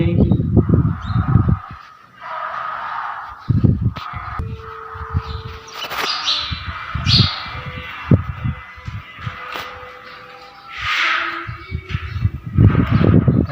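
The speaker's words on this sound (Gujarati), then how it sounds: "ચકલા આવ્યા" Sparrows chirp in short, scattered bursts outdoors, some calls fairly close and bright, others fainter, mixed with intermittent low thumps and background noise.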